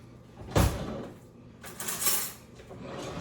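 A kitchen drawer opened to fetch a spoon: a sharp clack, then rattling cutlery and a sliding rumble of the drawer, close and fairly quiet.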